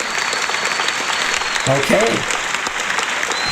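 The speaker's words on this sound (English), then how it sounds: "let's give them once again a big round of applause" Big round of applause for debate participants in an online English-lesson climate change debate, steady broadband clapping under a brief spoken word.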